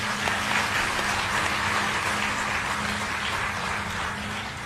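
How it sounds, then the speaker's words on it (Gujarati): An audience gives a steady, dense round of clapping to welcome a boy at a spiritual gathering, the sound filling the hall evenly and fading slightly toward the end. "આ છોકરાને એકવાર તાળીઓથી વધાવો બધાને"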